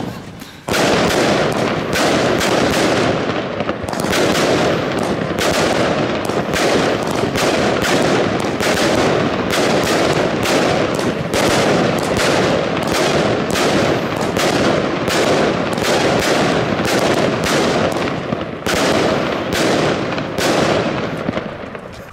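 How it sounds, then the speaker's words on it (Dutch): Firework salutes explode during Dutch New Year's Eve celebrations, a loud, dense, continuous barrage of sharp cracks and bangs in rapid succession lasting over twenty seconds. "Hij zet even die saluut lekker goed weg, zodat hij niet omvalt."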